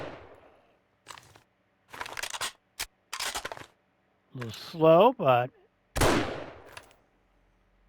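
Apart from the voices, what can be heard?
rifle gunshots in the video game 7 Days To Die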